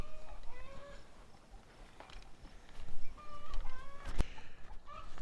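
A wild tom turkey sparring through a fence with a domestic tom on a homestead pasture, giving rough clucks, gobbling calls and scuffling, close by, ending in a sharp knock.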